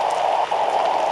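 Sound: acid rain falling in Roblox Natural Disaster video game

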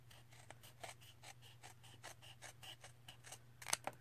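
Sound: scissors cutting excess paper off a junk journal tag

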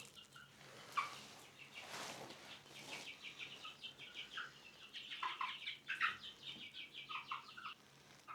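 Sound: rooster

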